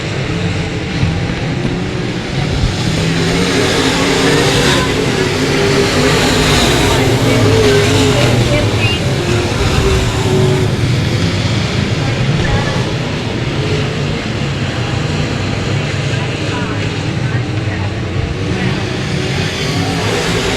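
Race cars at a 2017 Texas Grand night event roar through turns 1 and 2, a dense, continuous engine wall with revving surges, loud and sustained, with a commentator talking over it throughout.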